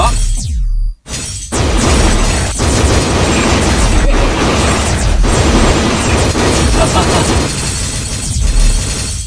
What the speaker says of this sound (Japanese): リヴァイアさんの攻撃音のがでかいっていう話で